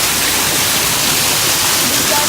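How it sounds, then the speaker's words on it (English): Loud, continuous rushing splash of a waterfall at a restaurant entrance in Muscat, Oman, heard up close, with faint voices mixed into the roar. "I can see a waterfall here."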